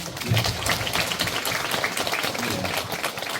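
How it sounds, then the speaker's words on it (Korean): An audience at a Daegu senior welfare center evaluation meeting claps for council members, a moderate wash of applause running steadily throughout. "시의원님 부의원님들께 박수 한번 주시죠"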